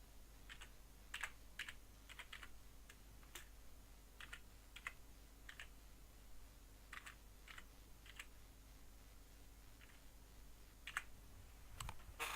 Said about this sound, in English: And you just start typing and the cursor will move across on its own.